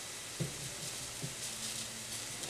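Chicken enchilada filling sizzles quietly in a pan on the stove, a steady low frying hiss with a couple of soft clinks from stirring and no talking.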